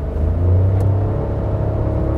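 A Honda Civic with a 1.0-litre turbo engine, driven in S mode, revs up with a steady, rising engine drone heard from inside the cabin, with no talking.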